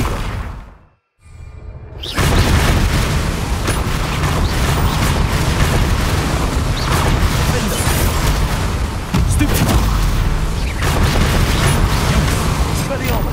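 Repeated Bombarda spell explosions from Hogwarts Legacy, a loud continuous barrage of booms and whooshes after a brief quiet gap near the start.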